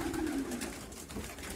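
A female racing pigeon gives a soft, low cooing call, faint and close, with no voices around it.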